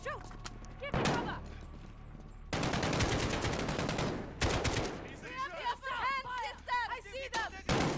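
Bursts of automatic gunfire in the video game Call of Duty: Modern Warfare (2019), loud and close, in rapid volleys separated by brief pauses, with chirping birds and ambient battle noise between the bursts.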